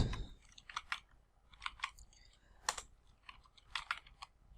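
Rapid clattering keystrokes on a computer keyboard as a terminal command is typed in Kali Linux, uneven bursts of clicks in short clusters with pauses, close and fairly quiet.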